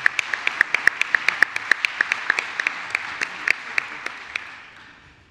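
A small audience at a French council plenary session applauds newly decorated members, sparse and distinct hand claps at an irregular pace, fairly close, that slow and fade out after about four seconds.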